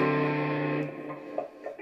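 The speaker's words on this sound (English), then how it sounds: "Now to play this, I dial up quite a bit of distortion" An electric guitar with heavy distortion, played on the bridge pickup, rings out with a thick, sustained chord that fades over about a second, followed by a few quieter picked notes.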